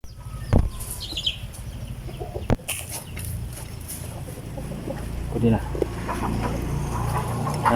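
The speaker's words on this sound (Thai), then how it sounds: "พอดีไก่วิ่งไล่กันพอดีเนาะพี่ข้างหลัง" Chickens clucking and scurrying as they chase each other behind someone talking outdoors, their calls rising now and then over steady background noise.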